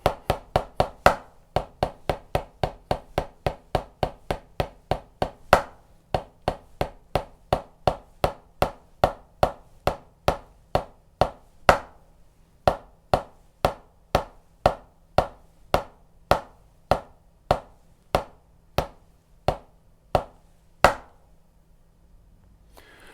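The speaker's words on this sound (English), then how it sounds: "So that's a traditional breakdown of a 15-stroke roll" Drumsticks play a 15-stroke roll rudiment: a long series of crisp, sharp strokes that starts as a fast dense roll and gradually slows into evenly spaced single hits, close and alone with no talking.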